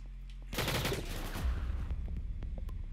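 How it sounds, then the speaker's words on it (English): A P90 submachine gun in the video game Jailbird Remastered fires a long, rapid, loud burst that rattles on continuously after a sudden start. "I heard like 40 bullets go inside bro body"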